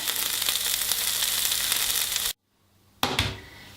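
Vegetables for a vegetable rice paella sizzle in a pan with a steady bright hiss, cut off abruptly into near silence, then a short burst of sizzling returns and fades.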